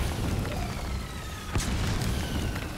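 A mortar shell in Metal Gear Online 3 lands as a brief, muffled, distant thump against a constant roar of battlefield noise.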